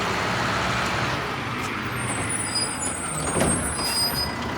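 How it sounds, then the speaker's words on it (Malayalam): A garbage collection truck rumbles past on a residential street in Florida, its loud engine drone steady throughout with a brief hiss like an air brake near the middle and no talk over it. "വേസ്റ്റ് എടുക്കണ വണ്ടിയാണത്."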